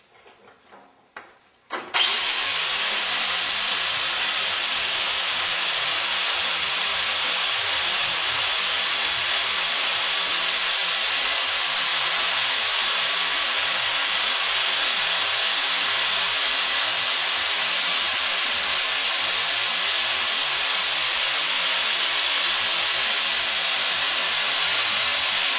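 A 4.5 inch angle grinder fitted with a wire brush spins up and scours metal on a Meyer E-60 snow plow pump, a loud, steady high-pitched whine and scrape that runs on unbroken.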